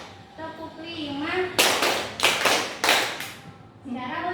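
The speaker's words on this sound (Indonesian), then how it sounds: "tepuk 5." A group claps in a rhythmic pattern in a classroom-style session, a few sharp bursts of clapping between a woman's spoken prompts.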